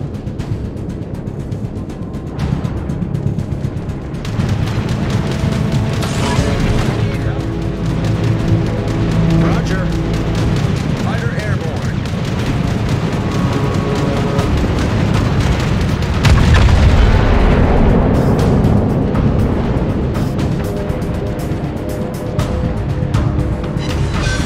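Torpedo explosions in a naval video game: deep rumbling booms layered over a constant loud engine-like drone, with rolling low blasts swelling midway and near the end, and brief voices present.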